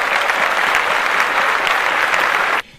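A crowd claps loudly and evenly for under three seconds, then the applause cuts off abruptly.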